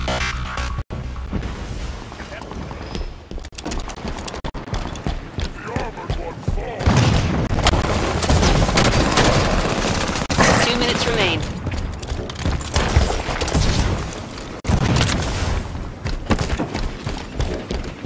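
A heavy, continuous barrage of gunfire aimed at an elite in Halo 5 on expert mode, loud and dense with booms and crashes layered over it, lasting the whole stretch.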